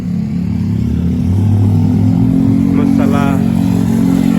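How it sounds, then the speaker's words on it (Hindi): Motorcycles rumble past on a busy New York street in a South Asian neighborhood, a loud, steady engine drone with a brief rev, as someone talks over it. "मोटरसाइकिलूं वञनि पियूं थियूं।"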